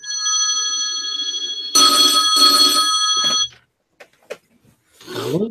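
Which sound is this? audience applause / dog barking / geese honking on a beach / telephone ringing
telephone ringing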